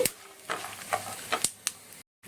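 Urad dal, peanuts and chillies fry in a pan for idli powder, with soft sizzling and a few sharp scraping stirs. The sound is faint and close, with no talking, and cuts off at the end.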